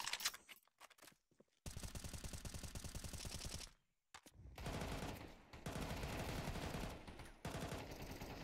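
Gunfire in a professional Counter-Strike tournament match: loud bursts of rapid automatic shots separated by brief silent gaps, close and dominant.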